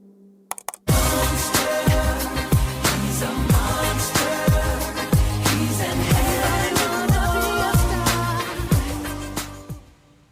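A disputed version of a song plays as a dense, loud music track with sharp percussive hits in a steady rhythm, starting abruptly after a brief silence and fading out at the end.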